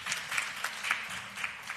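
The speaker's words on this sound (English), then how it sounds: "Give her another round of applause, ladies and gentlemen." Audience applause at an education oversight committee press conference, a short, fairly faint patter of clapping from a modest crowd in a room.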